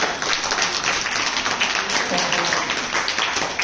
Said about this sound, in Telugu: one good round of claps for Manish